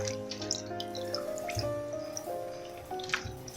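Water runs at a sink while uziza leaves are washed, a soft continuous splashing with occasional drips and light knocks, close and moderately quiet.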